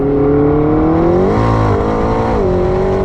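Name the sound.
McLaren 675LT accelerating, turbochargers and air intake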